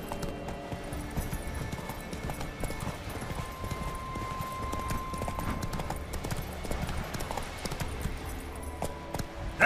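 Roach, Geralt's horse in The Witcher 3, gallops with steady rapid hoofbeats over a dense game soundtrack and ambience; the clopping runs throughout at moderate loudness without letup.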